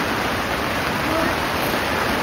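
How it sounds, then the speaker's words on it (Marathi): Heavy rain pours down on a camp while water runs through it, a dense, steady hiss and rush of falling and flowing water, loud and unbroken, with no voices. "पावसाने आज धुमाकूळच घातला बाबा"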